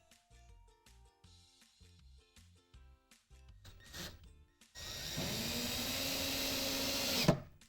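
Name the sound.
power drill driving screws into wooden coffee table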